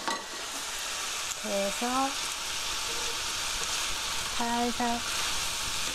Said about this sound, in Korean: 스터프라이 5분 5분 정도 볶아주세요